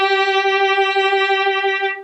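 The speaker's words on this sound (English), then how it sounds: "And then if you do it in the right tempo and regular" Violin holding a single sustained bowed note with steady, evenly paced vibrato, rich in harmonics, played alone and close for about two seconds before fading out.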